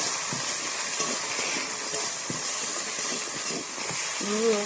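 Shrimp and bottle gourd fry in a pan with turmeric and salt, giving a steady, close sizzling hiss under crackling pops. A voice talks over the frying near the end.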